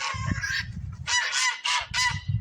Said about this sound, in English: Toulouse Goose just did a dance for me